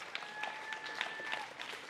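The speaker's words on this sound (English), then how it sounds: "round of applause to all the amazing athletes today and yesterday" Spectators at a national championship finals event applaud the athletes, a faint, distant patter of clapping with a thin tonal whine running through it.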